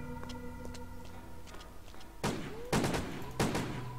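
Sniper rifle shots in a video game, three loud, sharp cracks about half a second apart, each with a ringing tail, following a stretch of quieter ticking game sounds and faint tones.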